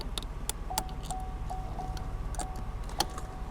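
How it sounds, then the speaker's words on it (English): A Chevrolet Silverado's warning chime dings faintly about six times at uneven intervals, mixed with scattered light clicks and rattles in a quiet cabin or garage. "You can hear the dinger going off"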